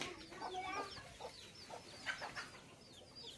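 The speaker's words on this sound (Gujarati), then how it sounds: "કુકડા બતાવું તમને હું આમાં છે ને કુકડા" Chickens and roosters in a coop give a run of short, nasal clucks and squawks, close but soft, repeating unevenly over a faint background hiss.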